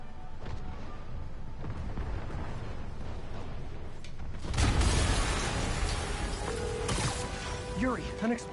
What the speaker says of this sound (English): An explosion just... I saw it.